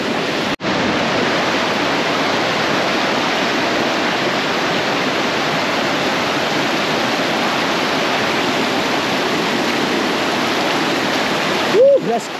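A jungle waterfall in Colombia rushes as a loud, steady broadband roar close by, continuous for the whole stretch with a brief interruption near the start.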